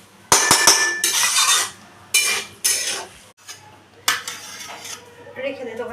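Spoon stirring banana flower curry (mochar ghonto) in a pan, with clattering metal scrapes and clinks in several bursts separated by short pauses, close and fairly loud.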